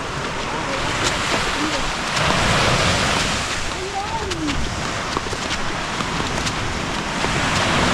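Ocean surf on a Lambai Island beach rushes and washes continuously, heavily buffeted by wind noise across the microphone, loud and unbroken throughout.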